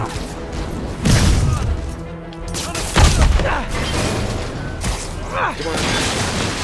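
Gunfire and heavy thuds ring out in the Spider-Man PS4 game, with a couple of sharp, booming bursts and scattered impacts amid a busy scene, and voices can be heard.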